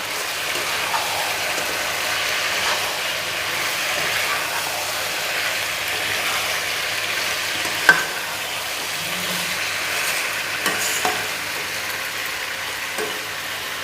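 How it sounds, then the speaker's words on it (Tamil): Andhra-style chicken mixed with lemon juice in a pan gives a steady, soft sizzling hiss, with a few faint clicks of a utensil against the pan. No one speaks. "லெமன் ஜூஸ் நல்லா மிக்ஸ் பண்ணிக்கலாம்."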